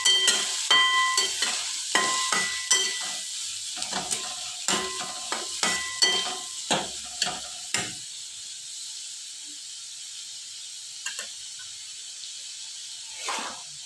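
Paneer momo filling stirred in a pan, quick rhythmic scraping strokes over a hissing sizzle that stop partway through and leave the frying hiss alone with a couple of faint scrapes.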